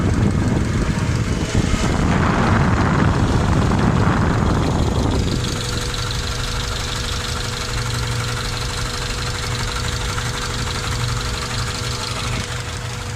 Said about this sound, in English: Fan kicked on.